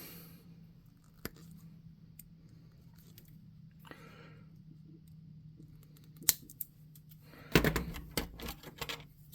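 A hard plastic miniature figure's foot is trimmed with a blade, a few sharp isolated snaps and then a louder cluster of crunching cuts near the end, close and otherwise quiet.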